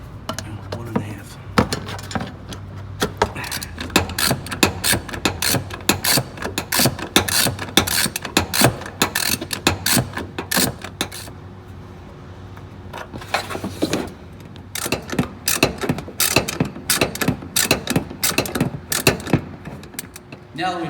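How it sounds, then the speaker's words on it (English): A ratchet drives screws out of a 2006-2010 Dodge Charger bumper during headlight replacement, a long, dense run of rapid clicking pawl bursts, close and loud, with a brief steadier lull midway. "Now that we've taken all the screws out, let's lift the bumper off."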